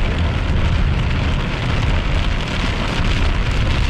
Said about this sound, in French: il y a de la faible pluie présentement